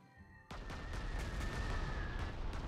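Artillery fire in the wartime strategy game Panzer Corps 2, starting abruptly as a run of repeated booming blasts over a sustained rumbling din, with a steady tone lingering through the barrage and no talk.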